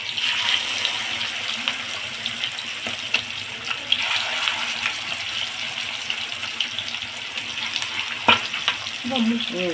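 Fish pieces cook in oil in a wide kadai for a fish curry, giving a soft, steady sizzle with light bubbling and a few faint clinks.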